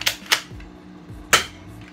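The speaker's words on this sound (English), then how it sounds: "I'm gonna shoot at the box. It's about to go bounce off." A BB gun firing at a box, with three sharp, snappy cracks spaced irregularly across two seconds, each followed by a brief rattling ring and faint clatter.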